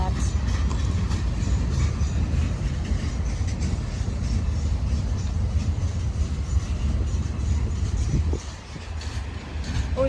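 Old freight cars, including a former Conrail car, roll past in a mixed manifest train, giving a steady loud rumble and clatter that stays constant before easing slightly near the end, with a voice talking over it.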